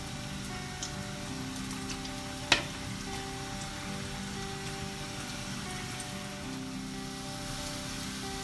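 Namak para dough fries in hot oil over a high flame, giving a steady, dense crackling sizzle throughout, with one brief sharp clack partway through, no voices.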